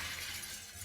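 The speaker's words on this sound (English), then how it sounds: "all at once you hear the glass give way" Window glass shattering in the Choices: Stories You Play game, a brief, steady bright crash that fills the whole moment with no voices over it.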